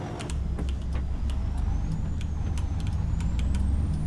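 A plow truck in a farming video game, its engine droning steadily and loud close up, with short hissing bursts of air brakes and a faint rising whine, no talk.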